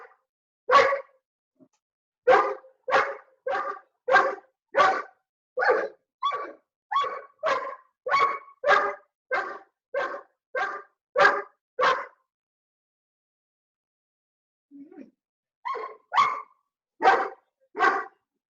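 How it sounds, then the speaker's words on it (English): A dog barks in a long run of about twenty sharp, evenly spaced barks at someone at the door, pausing for a few seconds before another burst of barks; loud and close, with no talk. "My dog's gone mad because there's someone at the door."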